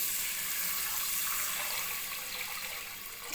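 Water pours in a continuous, fairly loud hissing stream into a pot of chicken with toasted spices, turmeric and salt, tapering slightly toward the end with no talk over it.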